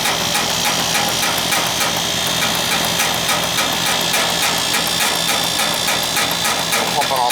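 Air conditioner condenser running during a refrigerant pump-down, a loud, steady mechanical hum with a rapid rhythmic pulse, close and continuous, and a voice speaks over it.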